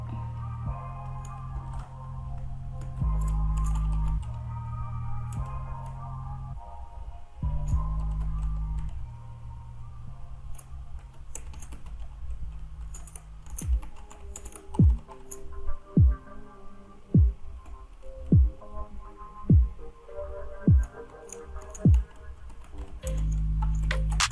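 Typing on a computer keyboard while building an online exam, scattered soft key clicks over a steady low droning tone, followed by a run of regular, evenly spaced heavier thumps.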